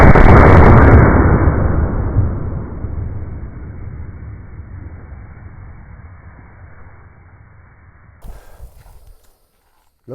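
A single loud 50-110 WCF rifle shot firing a 450 grain Barnes bullet into water jugs opens with a heavy blast, then a long rolling boom decays outdoors over several seconds before faint footsteps and rustle.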